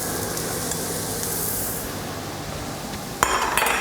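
Chopped onion and pepper sizzling in a very hot pot with chorizo, a steady frying hiss throughout, then a sharp clink and some stirring clatter near the end, with no talk.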